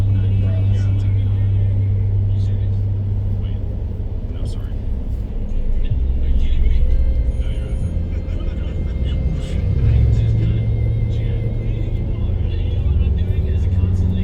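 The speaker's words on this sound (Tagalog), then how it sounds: "Nandito ang traffic." Street traffic in Baclaran, Parañaque City, a loud continuous rumble of engines idling and passing close by, with people talking throughout over the low drone.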